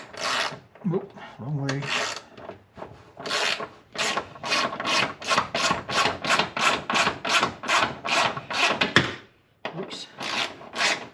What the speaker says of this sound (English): Let's go ahead and remove our fender bolt.